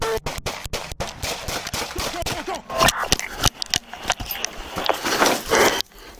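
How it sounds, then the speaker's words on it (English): Repeated gunshots fired at police during a confrontation, sharp loud cracks in an irregular burst, some in quick succession, with echoing impacts and brief shouting between volleys. "4108, shots fired again"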